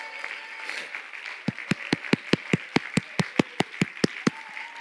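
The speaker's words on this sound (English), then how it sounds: "Somebody clap your hands to the Lord today" A church congregation claps in unison, about fourteen sharp, evenly spaced claps in a brisk rhythm that begins after a stretch of soft room murmur.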